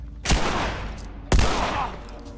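Two loud, sharp gunshots in The Last of Us crack about a second apart, each followed by a short echoing decay, with no talk over them.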